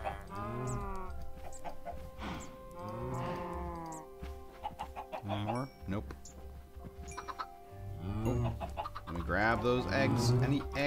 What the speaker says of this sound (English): here goes chickens.